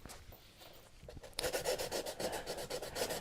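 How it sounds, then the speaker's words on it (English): Light rhythmic rubbing of sandpaper over painted wood lettering, steady back-and-forth strokes growing a bit louder, close up and alone. "And all that means is that I'm lightly sanding through."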